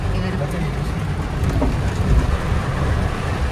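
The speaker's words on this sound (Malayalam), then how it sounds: "നല്ല മഴയാണ്, നല്ല മഴയാണ്, നല്ല മഴയാണ്." Heavy rain pours steadily near Ponmudi on a misty hill road, a dense, continuous broadband hiss with low rumbling underneath that holds at a loud, even level throughout.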